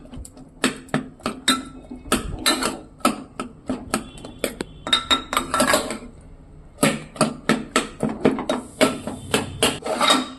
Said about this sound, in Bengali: আমি এটা এর মধ্যে একটু ঘেঁটে দিচ্ছি।